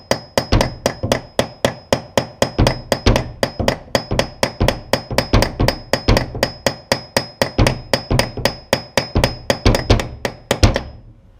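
A hammer drives an anchor bolt into a concrete wall while a cabinet is being installed, landing a steady run of sharp, close metallic blows, about three or four each second, that keep going for over ten seconds before stopping.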